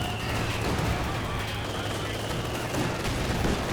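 Machine-gun bursts crackle through a Company of Heroes 2 battle as dense, continuous rattling gunfire with a busy rumble beneath it, fairly loud and steady throughout.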